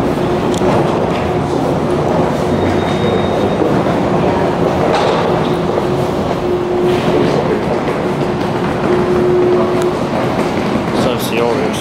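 A Washington Metro (WMATA) rail train rumbles steadily throughout with a rhythmic clatter of wheels, loud and close, while people talk underneath.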